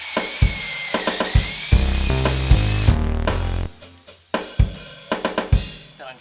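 Power drill boring holes into a wooden log for a Christmas reindeer craft, a steady high whine that rises in pitch, then lower grinding bursts, followed by a series of sharp knocks and taps, close and loud.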